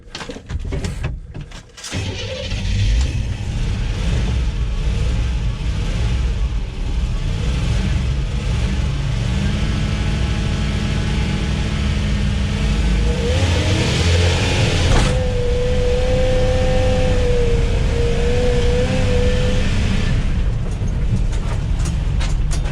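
A carbureted $500 Chevy van engine revs hard and steadily during a burnout, a loud continuous roar with a rising whine near the end, mechanical rattle underneath, heard close and alone.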